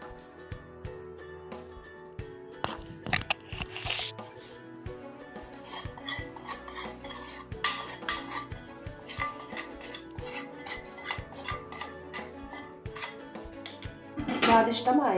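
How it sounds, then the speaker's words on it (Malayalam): Freshly boiled Kerala varattiya chammanthi is transferred from a pan into a bowl, with repeated metal clinks and spoon scrapes against cookware in irregular bursts, close and fairly sharp, growing busier near the end. "ഇനി നമുക്ക് ഇത് ഒരു ബൗളിലേക്ക് ഒഴിക്കാം."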